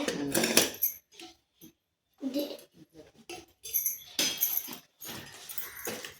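Spoons clatter and clink in a home kitchen, a few bright metallic jangling bursts separated by quiet gaps, close and fairly loud, with soft background voices.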